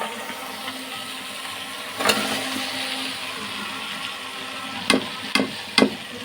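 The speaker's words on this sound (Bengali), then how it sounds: "এখন আমি ভেজে রাখা এগুলো দিয়ে দিও।" Fried egg and papaya go into sizzling spiced oil, a steady hiss of frying with a surge around two seconds and sharp clatters of stirring near the end.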